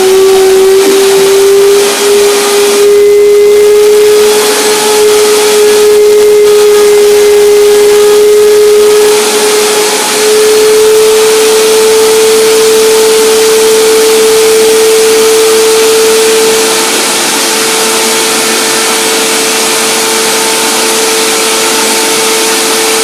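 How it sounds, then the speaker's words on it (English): An electric blender whirs steadily while blending a curry corn dressing, a loud, continuous motor whine with a bright hiss that holds for over twenty seconds and softens slightly near the end, with no talking. "I will blend it up with the blender dance and then taste it in front of your eyes."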